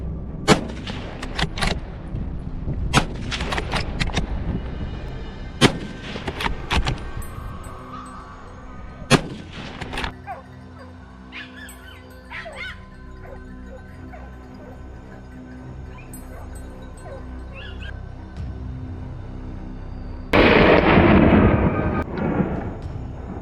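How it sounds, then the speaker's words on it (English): Several sharp gunshots from a wild boar hunt in a French forest crack out in an irregular burst early on, with echoing tails, then scattered quieter bangs and a loud noisy rush near the end. "Gunshots echoed through the forest."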